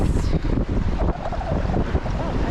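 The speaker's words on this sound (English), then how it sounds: "Stupid wind comes back." Gusting wind buffets the microphone during a river rafting trip near Jackson Hole, a loud continuous rush with rumbling low-end bursts and water sounds mixed in, no talk.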